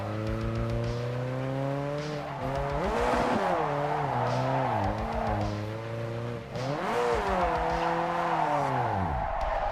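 A car in the drift video game JDM: Japanese Drift Master oversteers, its engine droning and revving with pitch swoops as tires squeal and skid, loud and continuous throughout.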